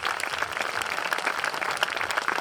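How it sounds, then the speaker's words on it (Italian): Applause at a village talent show fair in Ficarolo for volunteers, steady continuous clapping from a crowd throughout. "Un applauso per cortesia per queste persone che sono volontari"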